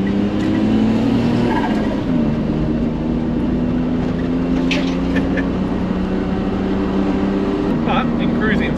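A turbocharged kei truck engine runs on a dyno, holding a steady loud drone with a pitch that dips and shifts, while people talk over it.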